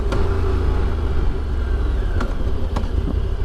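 Morbidelli T200V adventure bike engine pulled at full throttle through the gears, a steady loud rumbling drone with wind noise and a couple of brief clicks, no talk.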